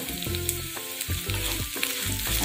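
Chilli hits a hot frying pan for Onam erissery, a loud close sizzle with bursts of crackling and stirring, plus a tonal hum underneath.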